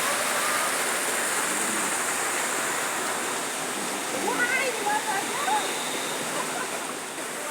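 River water rushes in a steady, full roar close by, continuous and unbroken, with faint voices barely surfacing partway through.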